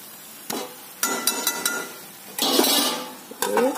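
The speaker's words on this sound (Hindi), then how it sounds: "धीमी आंच पे बिल्कुल इसको ढक के हम रख देंगे" Metal cookware clanks and clatters in a kitchen as a lid is set over a pot of mustard greens cooking on low heat, a series of sharp near clinks and knocks with a brief rattling scrape between them.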